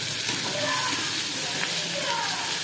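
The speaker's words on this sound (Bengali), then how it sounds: "ভালোভাবে ভেজে নেব" Chopped onion and garlic fry in hot oil in a pan, giving off a steady, close, dense sizzle that holds unbroken throughout.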